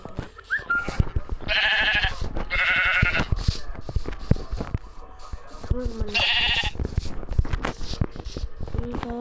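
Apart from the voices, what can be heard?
sheep bleating in Minecraft video game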